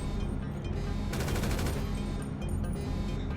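Sustained gunfire in GTA V during a Cayo Perico heist setup, dense overlapping shots with a louder burst of rapid fire in the middle, steady and close throughout.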